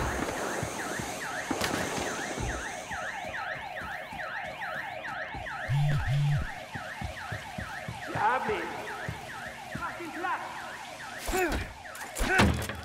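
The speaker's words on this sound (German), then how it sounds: "Große Alarmanlage. Sollte ich hier ausschalten?" Large alarm system in the video game Battlefield Hardline, a loud cycling electronic wail repeating in rapid, even sweeps for most of the stretch, with a few brief low thumps and bursts of game noise breaking in.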